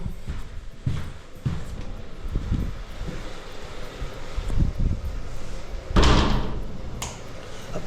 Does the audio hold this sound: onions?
no